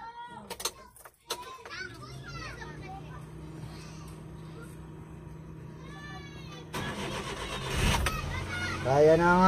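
A vehicle engine cranks and catches, then keeps running steadily with a low hum, rising louder near the end, while children play and talk in the background.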